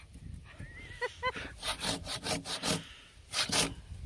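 A hand saw cuts through large firewood in a rural winter hillside setting, with a run of rhythmic rasping back-and-forth strokes, fairly close, preceded by a brief vocal sound.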